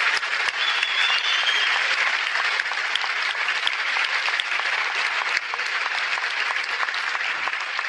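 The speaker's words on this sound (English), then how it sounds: "Please, another round of applause for Professor Dawkins and Dr. Tyson." Sustained audience applause at a science talk featuring a panel discussion on life in outer space, a dense, steady wash of many hands clapping throughout with no speech over it.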